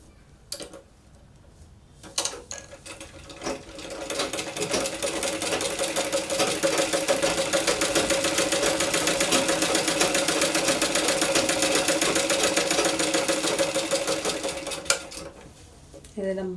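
A sewing machine stitches a folded edge of fabric on a baby frock for a 2-to-3-year-old, running in one steady, near, continuous buzz for about eleven seconds after a few brief handling clicks.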